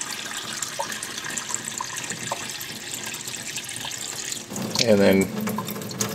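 Tap water runs steadily into a pot for beer-making sanitizing, a continuous close splashing rush that swells louder near the end, with a brief bit of speech over it.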